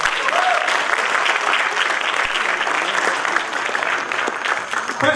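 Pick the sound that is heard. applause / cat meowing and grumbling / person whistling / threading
applause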